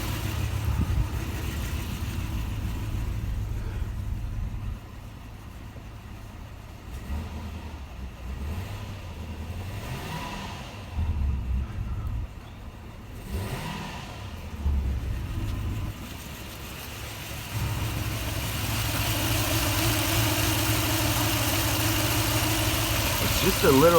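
A 2004 Toyota Tundra engine idles after a fan bearing repair, a low steady rumble that dips and swells with slight revving, under intermittent talk.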